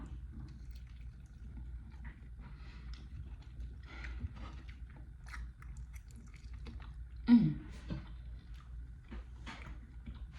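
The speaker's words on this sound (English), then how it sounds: "if you don't like chewing sounds, if you don't like ASMR, click out" Close, soft chewing with faint moist crunches and mouth noises over a low background hum, with one sharper, louder bite standing out briefly; nobody speaks.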